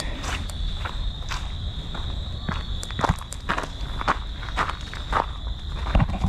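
Footsteps crunch steadily along a trail during a night hike at Bullfrog Lake, a regular walking rhythm of close, distinct steps over a constant high chorus of crickets and insects, with no talking.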